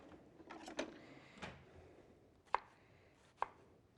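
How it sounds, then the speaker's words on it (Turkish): Half an onion is finely sliced with a kitchen knife, giving a few faint, separate chopping knocks against the board with quiet pauses between them. "Şimdi soğanımın yarısını güzelce ufak ufak dilimliyorum."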